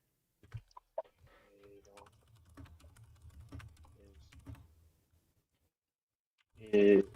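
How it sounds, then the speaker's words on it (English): Keyboard typing during a political discussion: scattered light clicks under low murmuring talk, ending in a brief louder burst of rapid clatter. "I cannot type for the life of me"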